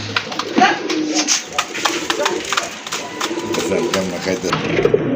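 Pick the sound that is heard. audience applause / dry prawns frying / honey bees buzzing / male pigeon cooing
male pigeon cooing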